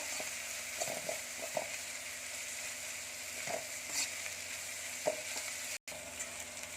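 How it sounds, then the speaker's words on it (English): Onions frying in a pan for capsicum rice, a steady hiss of sizzling with occasional clinks and scrapes of stirring, moderately quiet and without any talking. "This onion, it has to cook little bit more."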